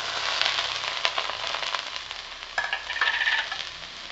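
Onion, garlic and ginger sautéing in hot oil in a pan, a steady close sizzle and crackle with occasional stirring scrapes throughout.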